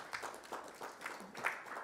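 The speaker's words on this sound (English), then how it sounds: "With a round of applause, let's welcome Mr." Sparse, faint clapping from a small audience at an energy collaboration side event, a few scattered claps in loose bursts rather than a full ovation.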